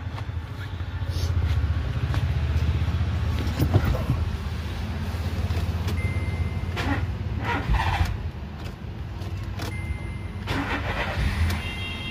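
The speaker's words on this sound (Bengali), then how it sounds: "দেখুন গাড়ি স্টার্ট হয়েছে," A Skoda Rapid with an alternator charging fault cranks and starts on a battery boost, then idles with a steady low engine rumble close by; brief clicks and knocks sit on top, and no one speaks.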